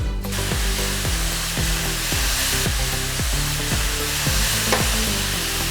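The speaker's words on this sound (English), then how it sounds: "Just saute this till everything is well mixed." A vegan cranberry rose fudge mixture of sugar and cashew milk is sautéed in a pan, with a steady sizzle under a repeated, rhythmic scraping of the stirring spoon.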